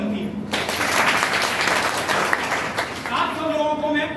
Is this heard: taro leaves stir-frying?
no